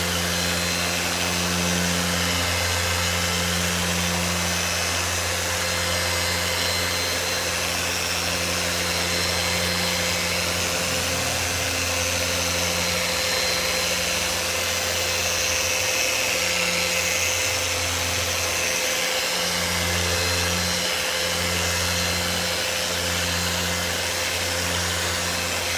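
A Flex XFE 7-12 80 dual-action polisher spins at high speed, near 5,500 RPM, while working scratches out of a surface, giving a steady, loud motor whine and whir that runs unbroken throughout with no talk.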